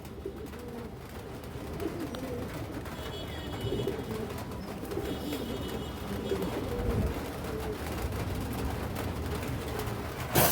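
A ring-eyed pigeon coos in low, rolling phrases amid a busy, noisy pigeon-seller's setting, a constant wash of background sound running beneath the calls.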